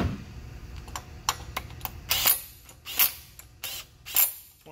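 A wrench clicks and ratchets in short, irregular bursts as it torques the water pump bolts on a Detroit DD15 diesel engine. The sharp metallic ticks sound close, with no talking.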